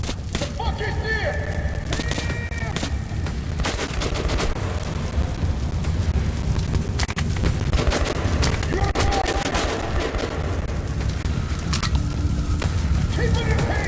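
Rapid machine gun fire and scattered gunshots in the video game Metro Last Light Redux, loud and continuous with thuds, while voices talk over the shooting.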